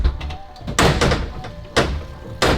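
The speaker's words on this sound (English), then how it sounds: "Brake, door closed," The door of a Rimac Nevera electric hypercar shuts with a firm, close thunk, followed by a couple of further soft thumps inside the cabin, with no talking.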